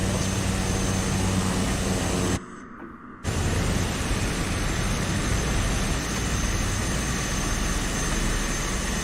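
Aircraft engine in Microsoft Flight Simulator, flying a bush plane in Papua, gives a loud, steady broadband roar that drops out briefly near the start and then returns and holds to the end, with no talk.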